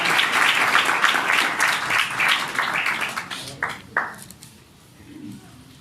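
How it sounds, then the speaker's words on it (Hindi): A church congregation claps together during a Hindi-Urdu service, a loud, dense burst that breaks into scattered claps and fades out. A voice is faintly present underneath. "खुदावंद के जलाल के लिए ताली बजाएं।"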